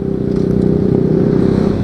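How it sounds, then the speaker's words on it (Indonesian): A 2013 Honda CBR 150R motorcycle engine holds a loud, high, steady rev above 7000 rpm, its tone droning evenly without pause. "Tapi teriaknya itu ketika torsinya itu udah di atas 7000 rpm"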